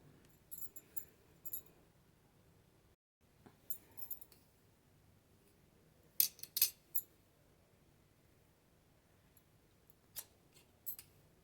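Scissors snipping through folded frock cloth layered with lining cloth, heard as a few sparse, close, crisp metallic cuts in short clusters against a quiet room.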